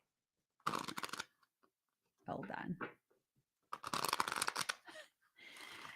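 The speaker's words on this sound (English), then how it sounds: "Okay, I'm going to shuffle one more time." A deck of cards is shuffled in quick riffling bursts, three distinct close shuffles separated by pauses, with a brief spoken phrase between them.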